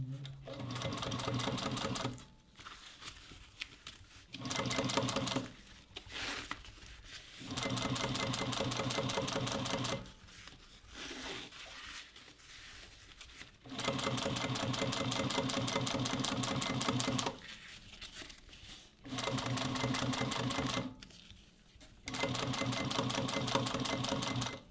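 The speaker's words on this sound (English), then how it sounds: "I'm going to top stitch the seam behind the top panel" A Juki sewing machine top stitches a bag seam in repeated bursts of rapid, steady whirring, several runs starting and stopping with short quiet pauses between, close and clear.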